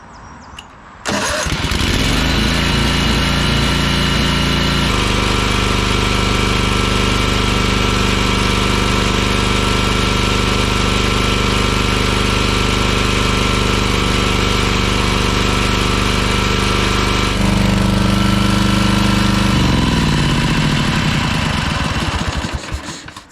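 The engine of a Ferris walk-behind 52-inch commercial hydro lawn mower runs unevenly, as if one cylinder keeps cutting in and out. It roars loud and close for about twenty seconds, its tone shifting partway through, then winds down near the end.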